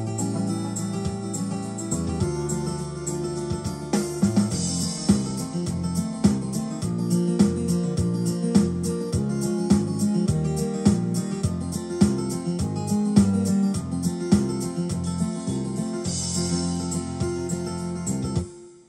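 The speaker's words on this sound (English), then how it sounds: "Okay, so I recorded a few chord progressions." Recorded chord progressions play back from a Yamaha PSR-EW425 keyboard, full sustained chords over a steady pulsing rhythm, unbroken and clear until a brief fade at the end.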